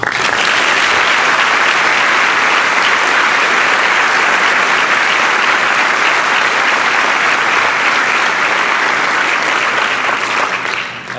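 An audience gives sustained, loud applause at a 2012 presidential installation ceremony, welcoming the new president's wife of 17 years as she is introduced; steady clapping fills the hall for about eleven seconds before tapering slightly.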